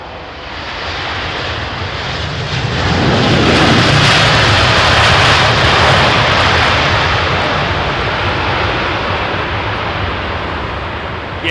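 Titan Airways Airbus A321 jet on approach in snowy winter weather at London Heathrow, a broad continuous roar that swells to a loud peak mid-pass, then slowly eases off, with no voices.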